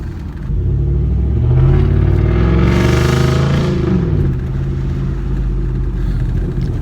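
A 2015 Ford F150 with a 5.0 V8 and its resonator and muffler deleted rumbles loudly up close, its engine note swelling through a rev before settling back to a deep idle.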